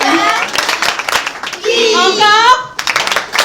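A group of children and parents at a kids' public-speaking show clap in short, sharp bursts, close and loud, with children's voices talking and cheering over the applause.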